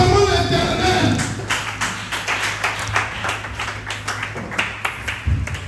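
A church congregation claps rhythmically in praise, a quick run of steady, close claps under voices.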